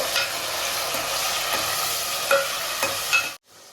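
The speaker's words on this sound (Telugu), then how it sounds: "ఆనియన్స్ ఫ్రై అవుతా ఉంది. టమాటాలు వేసుకున్నాము." Onions and tomatoes fry loudly in a pan for Nellore koramenu fish curry, a dense, close sizzle broken by several stirring scrapes and a few sharp crackles, then cutting off abruptly into silence.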